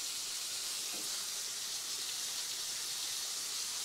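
Steady hiss of butter sizzling in a hot pan beside a flipped rib eye steak with onions, garlic and rosemary, a continuous close frying noise with no voices.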